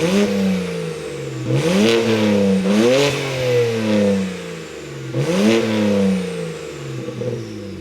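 BMW 335i with its stock catback exhaust revs repeatedly, the engine climbing and falling in several loud, close blips that reach a sharp peak each time, over a low idle rumble.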